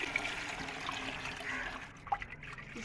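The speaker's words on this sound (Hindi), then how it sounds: "अब इसके अंदर हम पानी डालते हैं।" Water is poured into a cooking pot for chickpea rice, making a steady, soft splashing trickle that runs unbroken for a few seconds before easing off.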